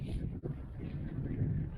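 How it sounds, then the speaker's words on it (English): Steady wind buffets the microphone beside a lake during a late-day fly-rod trout fishing trip, a continuous low rumble with a brief dip partway through. "especially with this wind just not letting up"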